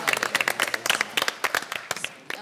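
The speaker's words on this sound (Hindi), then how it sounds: "जोर से ताली" An audience at the launch of The Drama Company comedy show gives a burst of loud applause, with uneven, distinct claps from nearby hands over a crowd backdrop, fading slightly toward the end.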